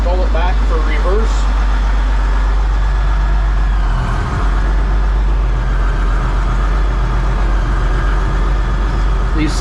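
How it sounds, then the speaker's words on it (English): An old Case 1070 tractor with power shift runs in reverse. A loud, close diesel rumble carries a faint, steady transmission whine layered above it the whole time. "These 70 series have a real distinct whine to them with power shift when you have them in reverse"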